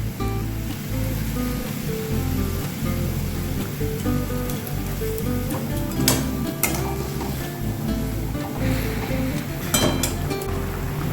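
Spices sizzling in hot oil while rui fish cooks, a steady, moderate crackling hiss running throughout with a few sharper pops and faint stirring clicks.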